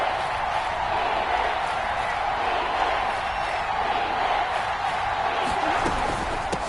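Simulated stadium crowd at Kansas City during a football video game, a steady dense roar of many voices filling the whole stretch at constant loudness, with faint thuds near the end.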